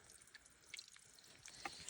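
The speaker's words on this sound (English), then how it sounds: "It's dripping right there." Water drips quietly at a small spring among moss and sand, a few soft irregular plinks over faint outdoor background hiss.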